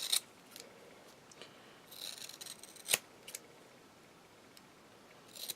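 Scissors snip in short, crisp bursts while a butterfly shape is trimmed, one cut at a time with quiet pauses between, close and fairly soft with no talk.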